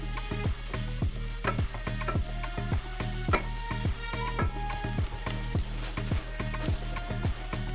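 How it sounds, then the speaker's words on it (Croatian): Onion fries in olive oil and butter with a constant crackling sizzle, punctuated by regular clicking scrapes of a utensil stirring the pan, under a low steady background hum. "Prvo što ćemo uraditi jeste da propržimo luk na maslinovom ulju i maslacu."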